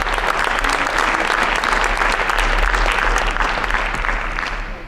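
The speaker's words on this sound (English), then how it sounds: "Let's give all of our sponsors a round of applause." Sustained, full audience applause at a conference luncheon honoring sponsors, dense clapping throughout that tapers slightly at the end, no talk heard.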